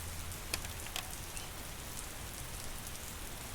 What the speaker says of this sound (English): As this rain continues to pour down